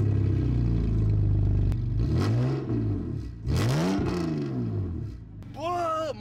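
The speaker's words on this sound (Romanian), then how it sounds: "Asta o filmăm înainte de intro ca să auziți și un cold start." BMW car engine on a cold start, a low steady idle followed by two rising revs with sweeping pitch, then a higher whine near the end, captured up close from outside.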